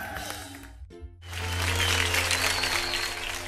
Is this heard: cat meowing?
no